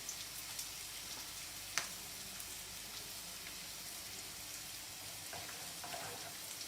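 Coconut rice cooks in a pan with a steady, quiet sizzle and soft bubbling, a continuous low hiss with a single small clink partway through.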